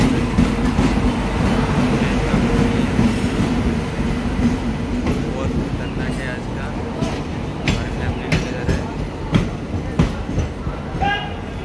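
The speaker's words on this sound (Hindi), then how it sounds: "अभी ट्रेन आ रही है पलकनमा एक्सप्रेस" Falaknuma Express pulling into Kharagpur railway station in India, a loud steady rumble of rolling cars with rhythmic wheel clatter and occasional squeals, while people talk nearby on the platform.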